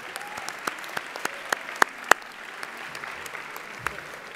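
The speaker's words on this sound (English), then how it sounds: "Let's give them a big round of applause." Audience applause at an awards ceremony honoring charter school operators, a moderate, even patter of many hands with a few sharp, close individual claps standing out.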